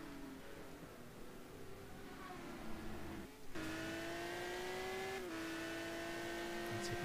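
A GT1 race car engine lapping Algarve in a racing game, a faint but steady revving drone that drops briefly, then climbs again through upshifts with a higher whine.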